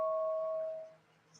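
A single bell tone, clear and fairly faint, sounding once and decaying over about a second into quiet room noise.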